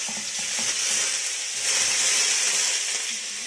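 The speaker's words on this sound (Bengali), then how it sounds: "এই যে বেগুনটা ভাজার জন্য দিলাম" Eggplant pieces frying in hot oil for a Bengali dudh kaju shukto, a steady close sizzle and hiss that swells slightly midway and carries on without pause.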